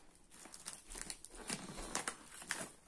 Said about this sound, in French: je vais ouvrir le carton en même temps